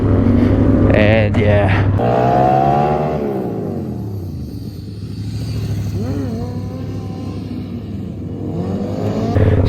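A motorcycle accelerates then brakes hard into a stoppie, engine revving up in a rising sweep and dropping off, loud and close, with brief speech over it.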